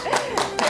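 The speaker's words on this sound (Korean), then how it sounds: "큰 박수 부탁드립니다" A studio audience claps briefly to welcome a guest author onto the stage of a Korean lecture-style talk show, with a few distinct clap bursts and a voice faintly underneath.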